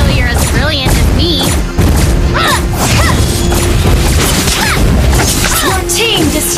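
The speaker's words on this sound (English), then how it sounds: "Your team destroyed the turret." A turret is destroyed in the mobile game Mobile Legends with a loud crashing boom, layered over dense, continuous battle effects, whooshes and rapid hits. An in-game announcer voice speaks over the din.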